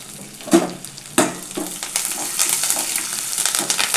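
Curry leaves, green chillies, cinnamon and spices fry in oil for country chicken gravy, a close steady sizzle opening with two sharp clatters as ingredients drop in, then continuous crackle without speech.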